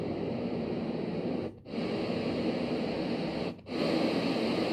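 A white noise machine emits a steady, loud hiss that fills the clip, cutting out briefly twice before resuming at the same level.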